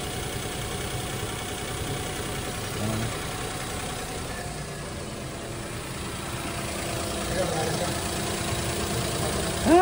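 An engine idles steadily, a continuous low rumble with a faint mechanical knock, holding an even, moderate level throughout.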